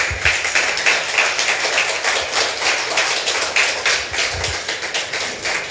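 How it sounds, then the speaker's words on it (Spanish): A church congregation claps together during a Spanish-language service, a sustained, lively patter of many hands with a steady rhythm and occasional heavier thumps, close and fairly loud without any voices. "Denle un aplauso al Señor por su palabra."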